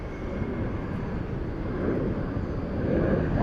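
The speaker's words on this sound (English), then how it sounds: "we have flight 418 Qantas coming in from Melbourne" A Qantas airliner arriving from Melbourne on runway 34 left at Sydney Airport gives a steady low engine roar that swells slightly as it approaches, heard from a distance with no talk.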